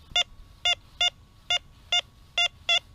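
Gold Bug metal detector sounding over iron: seven short, bright, evenly spaced electronic beeps in about three seconds, close and clear over a faint hum.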